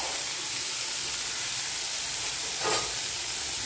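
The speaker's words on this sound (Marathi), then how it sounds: "बारीक कापलेला कांदा यामध्ये मी ॲड करणार आहे आणि चांगलं तेलावर परतून घेणार आहे।" Finely chopped onion frying in oil in a pan for a stuffed tandoori chicken, giving a dense, continuous sizzle with steady hiss and no voices.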